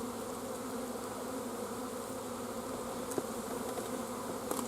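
A honeybee colony buzzes in a constant, close drone as a nuc is installed into a hive, with a couple of faint clicks of frames being moved.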